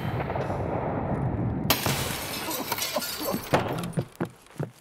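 A mortar round in a video game bursts with a sudden loud crash, followed by scattered debris-like crackles and smaller impacts that fade over a few seconds.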